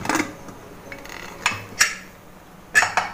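Metal kitchenware clinks and clanks as the lid of a pressure cooker that has cooled after cooking soybean curry is handled and opened, with a few sharp taps spread over several seconds in a kitchen.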